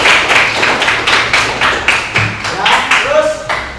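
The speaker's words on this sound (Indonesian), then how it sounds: "tepuk tangan dulu buat." Students clap in a classroom, a run of quick, fairly loud rhythmic hand claps with some chatter mixed in.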